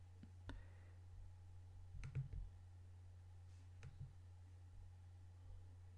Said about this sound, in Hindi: इस पर डबल क्लिक करते हैं, राइट क्लिक